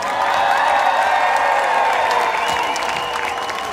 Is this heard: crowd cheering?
yes